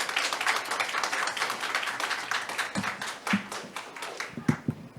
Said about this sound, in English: we're not going to have this clapping and doing this after each thing